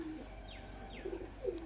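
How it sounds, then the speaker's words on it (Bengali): A Madras female pigeon with white-patched plumage coos softly in a few short, low repeated calls, close by and alone, without any talk. "এটা একটা চটিয়াল ম্যাড্রাস মাদি পায়রা"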